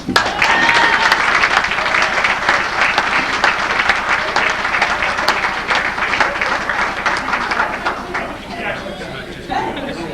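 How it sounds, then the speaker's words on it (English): Sustained applause from a large crowd at a fire department honors ceremony for Red Wilder, dense and loud from the start, then easing slightly toward the end, with a brief swell near the close. "I think you deserve a round of applause."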